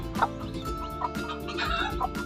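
Newly acquired backyard pet chicks peeping close by, quiet overlapping chirps and soft clucking notes in a busy little cluster with no talking.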